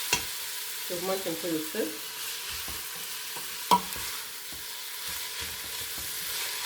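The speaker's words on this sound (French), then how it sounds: "Avant d'ajouter de l'eau, bien faire revenir des oignons dans l'huile" Onions sizzling in hot oil in a pan while being stirred for sautéed folon greens, a soft steady frying hiss with scraping stirs, under a calm voice speaking briefly over it.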